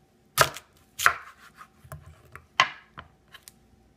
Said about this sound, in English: So here's my chayote, and it's peeled, and I'm just basically going to cut right down the middle.